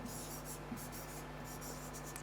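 A pen scratches out a trigonometry answer in short strokes, quiet and close, with brief pauses between bursts of writing.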